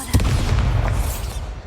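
A Bombarda spell explosion from Hogwarts Legacy hits with a sudden boom and low rumble, then crackling debris that fades over under two seconds.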